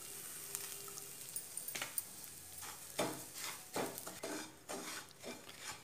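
Wheat semolina dry-roasting in a pan, with a spoon scraping and stirring through the grains in repeated scratchy strokes, close and moderately quiet, no talking.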